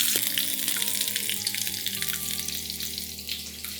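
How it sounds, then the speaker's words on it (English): Garlic and sliced onions fry toward golden brown, giving a continuous close sizzle with a faint hum beneath and occasional light scraping. "going to add in garlic and sliced onions. Allow the onions now to turn completely golden brown."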